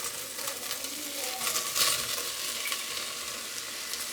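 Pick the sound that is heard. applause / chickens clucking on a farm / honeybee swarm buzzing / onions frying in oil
onions frying in oil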